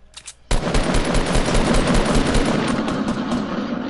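Sustained automatic gunfire from the video game Fortnite bursts in after a brief quiet moment and keeps up a dense, loud, rapid rattle for several seconds with no voices over it.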